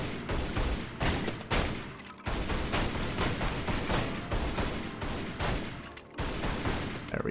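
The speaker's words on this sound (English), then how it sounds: "we're just gonna shoot up these boxes real quick so they're out of our way." Rapid gunfire in Tomb Raider: Anniversary as boxes are shot up in Croft Manor, a dense, loud, continuous volley of shots with a few brief gaps, no speech.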